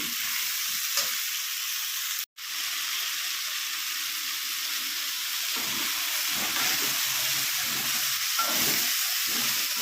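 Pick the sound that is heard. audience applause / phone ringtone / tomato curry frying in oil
tomato curry frying in oil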